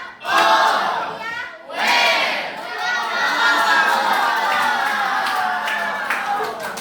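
Children in a school classroom burst into loud cheering and shouting with clapping underneath, in two surging waves that settle into a continuous noisy crowd din.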